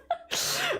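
A single human sneeze: a brief sharp intake of breath, then a loud, close, explosive burst that trails off, heard alone without talking.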